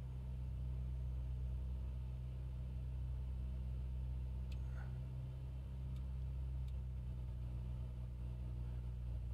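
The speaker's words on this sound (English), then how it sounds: "Let's go to the left mag, watch the RPM drop." Piper Cherokee engine in a flight simulator running at about 2000 RPM during a magneto check, a steady close low rumble with a slight dip as one magneto is selected, alone without talk.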